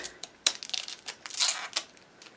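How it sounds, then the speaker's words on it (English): Small clicks, scrapes and taps from unscrewing one long screw and peeling protective tape and plastic off a Vax Life cordless vacuum cleaner, close and sporadic, with no talking. "Let's take the screw off and do that bit of tape."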